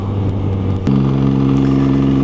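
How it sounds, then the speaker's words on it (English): A 2018 MV Agusta Brutale Dragster 800 RR with an 800cc three-cylinder engine idles steadily, then is blipped up to a higher, even-pitched revving hum held close and loud. "So this engine, it's a 800cc, it's a triple, a 3-cylinder"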